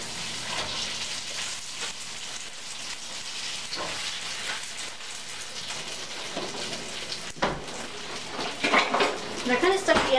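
Fried noodles dropped into very hot olive oil in a pan crackle and sizzle steadily, with scattered clatters of the pan and utensil growing busier toward the end.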